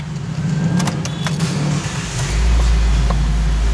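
The engine of a 2014 Nissan Livina XV CVT facelift runs close by. A few light clicks and rattles come first, then a deeper, steady engine rumble swells in and holds to the end.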